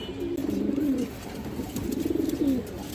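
A pair of jag pigeons coos close by in two distinct rolling phrases, soft and throaty, with no talk over them.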